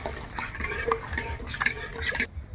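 Semolina and milk are stirred in a pan, making a steady close scraping and swishing with small clinks of the spoon against the metal. The stirring stays fairly constant and cuts off abruptly near the end.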